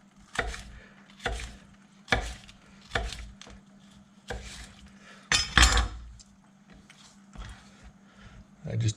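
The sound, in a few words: knife slicing food on a cutting board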